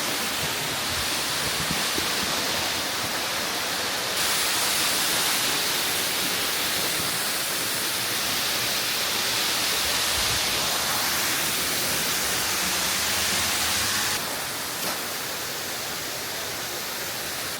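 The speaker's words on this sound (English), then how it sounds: "This is the waterfalls." A waterfall on a hiking trail near Jim Thorpe, Pennsylvania roars steadily as a dense, continuous rush of water, loud and unbroken throughout.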